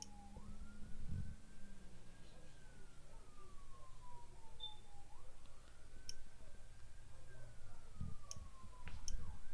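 A wailing siren rises and falls twice in the distance over a low background hum, with a few faint clicks nearby.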